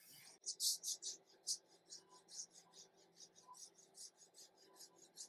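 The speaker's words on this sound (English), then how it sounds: "Rasp followed up with a mill file." A rasp files down a wooden gun stock to fit the ramrod on a Hawken rifle kit, giving a run of quiet, rhythmic scraping strokes that come in regular bursts, close but faint.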